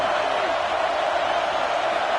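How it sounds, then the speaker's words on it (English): Stadium crowd roar from a college football video game, a steady dense wash of cheering noise at a constant loud level with no breaks, swelling as the home fans try to rally their defense for a red zone stop. "And here comes the noise. This crowd is trying to inspire this defense to make a big red zone stop."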